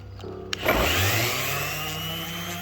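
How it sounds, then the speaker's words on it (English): An electric sander starts on a wooden dowel rod after a short click and then settles into a loud steady whine and buzz that slowly eases off, close by and with no talking. "I got my sander. I'm just going to smooth it up a little bit."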